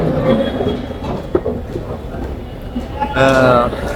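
A metro train heading to Sarojini Nagar rumbles along with a steady low roar and faint rattling, while people talk nearby over the noise.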